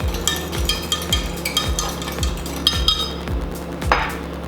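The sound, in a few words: whisking egg and egg whites with salt and pepper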